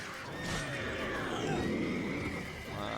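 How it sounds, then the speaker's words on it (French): Horses in The Witcher 3 whinny loudly over game ambience, a rising and falling neigh near the start followed by another drawn-out whinny, with faint clatter underneath. "Arrêtez de gueuler là les chevaux"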